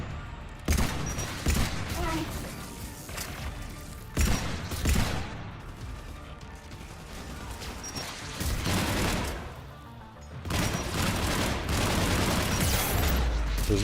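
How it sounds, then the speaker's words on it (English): Bursts of heavy gunfire from the Mass Effect video game, aimed at an incoming missile during the quarian and geth conflict, crackle in loud dense volleys with brief lulls between. "There's no way I didn't shoot that missile again"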